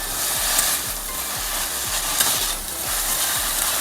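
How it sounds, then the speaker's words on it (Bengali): Chopped onion and green chili frying in a pan for a dherosh (okra) chorchori, a dense continuous sizzle with a steady rhythmic scraping of a spatula stirring through it, close and fairly loud, no voices. "এখানে দিয়ে এইটার সাথে একসাথে এই পেঁয়াজটাকেও ভেজে নেবো।"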